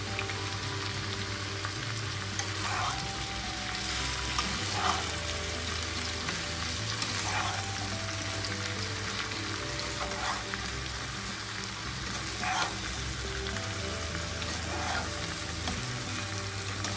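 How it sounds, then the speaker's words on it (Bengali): Vegetables fry with turmeric in a pan for sambar dal, a steady soft sizzle punctuated every couple of seconds by brief stirring scrapes, with no voices. "ভাজার সময় একটু হলুদটা দিয়ে দেবো,"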